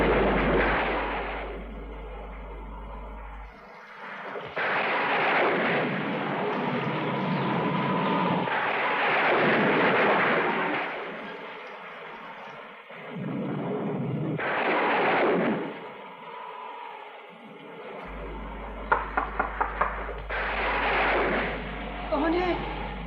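Heavy rumbling thunder rolls through a stormy night in a drama scene, long booming swells rising and fading over about twenty seconds, with voices speaking between the rolls.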